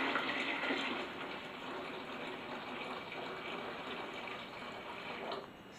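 Steady rushing of water pouring into a 2-gallon beverage cooler, a continuous splashing flow that carries on for several seconds before easing off near the end.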